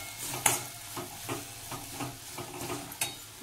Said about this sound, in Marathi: ते पण चांगलं हलवून घ्यायचं